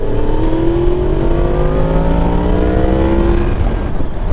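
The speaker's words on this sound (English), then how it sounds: "This has got a stock exhaust, and you can really hear that throaty sound coming through." A 2022 Yamaha MT-10 sport motorcycle with stock exhaust holds a loud, steady, throaty drone close by, its pitch shifting slightly as it revs.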